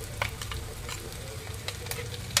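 Ginger-garlic paste, green chillies, cloves and whole cumin sizzle in a hot pan while being stirred, with a steady frying crackle and scattered spatula scrapes and pops, close up and no talk.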